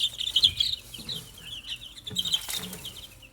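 An Ameraucana chick about a week old cheeps in short, high peeping bursts as it is picked up, close and clear with light handling rustle.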